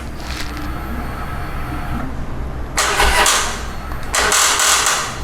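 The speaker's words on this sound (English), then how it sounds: "See, this is the kind of sound the bike is giving me." A Harley-Davidson motorcycle with a weak battery fails to start, the starter grinding loudly and close in two labored bursts over a steady mechanical hum, and the engine never catches.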